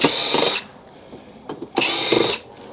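Power screwdriver whirring on screws in a scrapped all-in-one PC, two loud bursts of about half a second each with a short rattle of handling between them.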